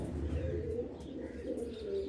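Pigeons in a loft give soft, low, continuous cooing, faint and steady with overlapping calls and a faint chirp or two; no talking.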